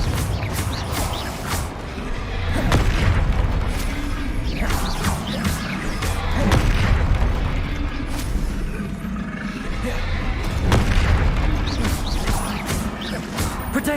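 Spell explosions in a wizard duelling video game crash and whoosh repeatedly, sharp impacts every second or so over a dense rumbling background, with no voices heard.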